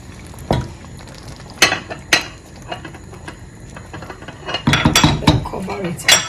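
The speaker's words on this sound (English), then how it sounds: "Stir our sauce beautifully" Utensil clinks and scrapes against a pot of eggplant sauce, coming in irregular bursts of metallic knocks with quieter stirring between them, close and fairly loud.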